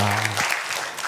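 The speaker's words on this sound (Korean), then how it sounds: "하나님께 영광의 박수를 드리겠습니다." A church congregation claps together during a Korean worship service, a short wash of broadband applause that starts right as a sustained voice cuts off, lasting about a second.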